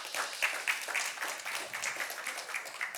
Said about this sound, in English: So thank you very much. A round of applause.